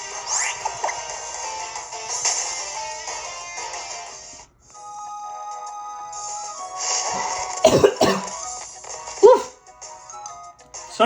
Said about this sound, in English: I was not meaning to cough that hard